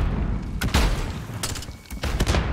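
Several sharp explosive bursts from a video game firefight, including a grenade blast, loud booming hits spread over a couple of seconds.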